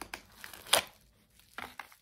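Brief bursts of newspaper packing paper crinkling and rustling, a sharp crumple in the middle and a few softer crackles after, close by with no talking.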